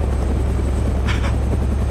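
Helicopter in the Arma II DayZ game, a steady low rotor drone running continuously and fairly loud throughout, with a brief brighter burst in the middle.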